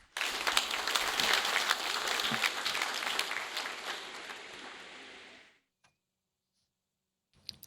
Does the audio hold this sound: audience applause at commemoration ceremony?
yes